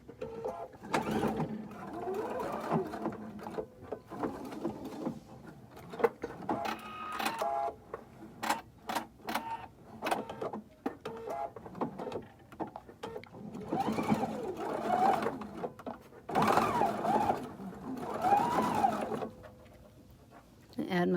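A sewing machine fitted with a megapiping foot stitches piping into an outdoor cushion cover, running in short bursts of rapid mechanical chatter separated by pauses while a person talks between and over the runs.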